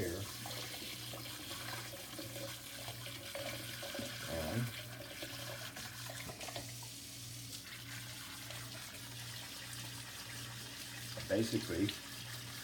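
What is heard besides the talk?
hot water spraying from sink sprayer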